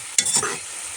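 Mushroom masala with tomatoes being stirred in a frying pan, a scraping stir stroke over a steady close sizzle of oil, with no voices.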